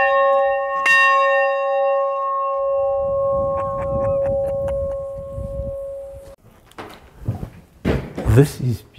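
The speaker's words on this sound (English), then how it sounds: "Firstly, look at this bell." An old church bell rings with sustained metallic tones that hang and fade over several seconds, near and clear, followed by footsteps and handling noises.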